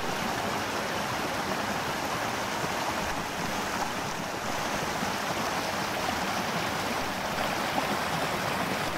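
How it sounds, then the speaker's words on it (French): A small waterfall cascades down from a plateau into a valley, giving a steady, dense rush of flowing water that stays even throughout, with light wind noise on the microphone. "cette mini cascade qui descend du plateau pour aller là-bas dans la vallée."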